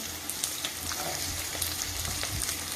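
Curry leaves fry in oil with a loud, steady hiss and bursts of crackling and popping, close by and continuous throughout.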